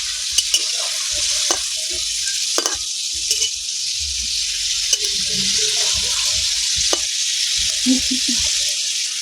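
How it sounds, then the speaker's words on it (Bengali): Banana flower pieces frying in hot white oil, a continuous close sizzle with intermittent soft clinks and stirring knocks from the pan. "তেল আমার অল্প গরম হয়েছে এবার আমি একটা একটা করে বসিয়ে দেব"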